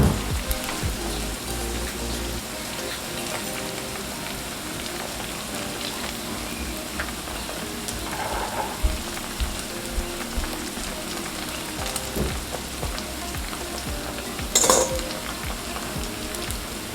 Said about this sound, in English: Just flipping the dumplings.